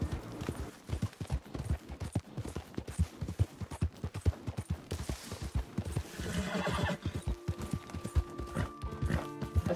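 Rapid, rhythmic clip-clop of horse hooves at a steady gait in Red Dead Redemption 2, with a horse's whinny rising partway through.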